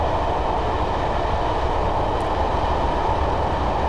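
A Class 111 diesel multiple unit runs on rails through Train Simulator 2015 on the Dumfries to Kirkcudbright line, giving a loud, steady rumble of engine and wheels with no breaks.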